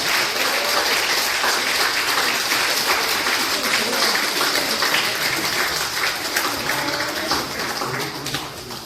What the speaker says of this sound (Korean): 여러분 다시 한번 박수 주시기 바랍니다